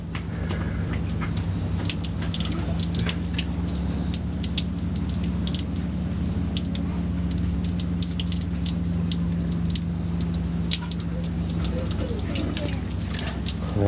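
Hot water is poured onto a dented car panel, making a steady splashing, pattering stream that runs throughout, with people talking over it.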